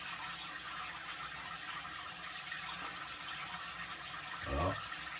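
Water runs steadily from a tap while a man's hair is rinsed, a constant close splashing hiss with a brief low gurgle near the end and no talk.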